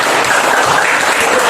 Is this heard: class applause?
yes